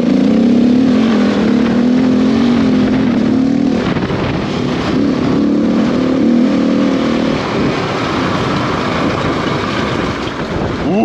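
Husqvarna 701 motorcycle engine revving continuously while riding, a loud steady mechanical drone with rising and falling pitch and heavy wind rush throughout.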